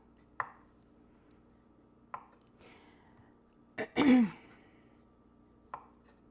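A knife cuts feta cheese into small cubes, giving a few separate soft knocks on the board spaced seconds apart, with a throat-clearing noise in the middle.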